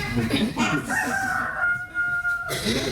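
A rooster crows loudly and close by, one long rising-then-sustained call over a noisy farmyard background.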